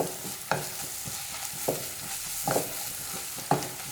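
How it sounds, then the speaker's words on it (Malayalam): Chicken liver with garam masala is stirred in a pan: a spoon scrapes in several distinct strokes over a soft, constant sizzle, close up and without speech. "ഇതെല്ലാം കൂടി നന്നായിട്ടൊന്ന് മിക്സ് ചെയ്ത് കൊടുക്കാം."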